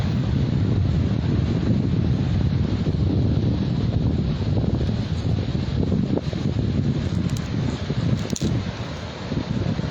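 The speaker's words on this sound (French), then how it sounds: "C'est un vent d'ouest et on risque de pas m'entendre." Strong wind buffets the microphone with a continuous low roar and rumble throughout, loud and close, with no voices heard.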